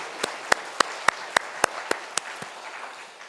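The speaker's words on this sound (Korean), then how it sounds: "하나님 앞에 영광의 박수 올려드리겠습니다" About ten slow, separate hand claps at a steady rhythm during a Korean church Sunday worship service, each sharp and distinct over a quiet background, fading toward the end.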